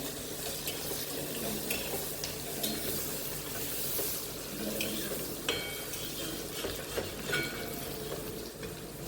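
Masala and onions roast in a pan for cashew curry, giving a continuous moderate sizzle under repeated scraping and stirring, with occasional utensil clinks against the pan.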